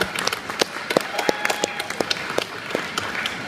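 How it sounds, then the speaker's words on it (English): An audience at a vegan festival Q&A gives a light round of applause, individual claps distinct and fairly steady, heard from a moderate distance. "A big round of applause, ladies and gentlemen, Wendy Turner-Webster."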